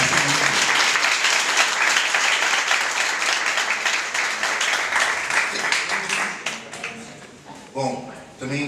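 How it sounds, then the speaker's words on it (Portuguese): Sustained applause from a festival audience at a student film festival debate with writers, steady and dense clapping through most of the stretch before thinning out near the end, with speech-like sounds faintly underneath. "palmas para o Derlan aqui, para a equipe"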